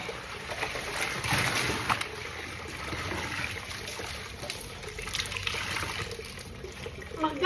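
Outdoor water running nonstop for hand-washing laundry in Cebu, a steady trickling, splashing stream heard close and continuous throughout, with faint background sounds and no clear talking.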